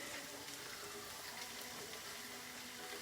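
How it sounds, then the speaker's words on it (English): A sugar beans curry fries gently in a pot, a steady soft sizzle and hiss with no break, fairly quiet and close, with no voices. "So that's just frying off gently."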